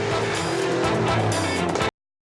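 Classic cars in the Tour Auto 2006 rally roar past loudly, their engines revving hard with a hint of tire squeal, before the sound cuts off abruptly.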